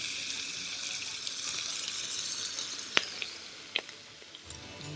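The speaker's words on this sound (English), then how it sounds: "Listen to that sizzle." Chicken tikka sizzles on a hot sizzler tray with a soft continuous hiss, broken by a few sharp pops and crackles near the end.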